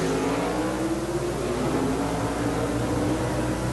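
Drag racing cars run at the 1976 NHRA World Finals in Ontario, California, a loud continuous engine roar with rising revs filling the whole moment, heard from nearby without talk.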